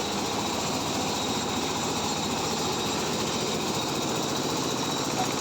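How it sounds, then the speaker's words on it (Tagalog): A diesel engine drives a rice and corn mill, a loud, continuous rumble with rapid rattling mechanical texture and constant level throughout, with no pause. "At ito naman ang kanyang makina. Gumagamit ito ng diesel engine motor."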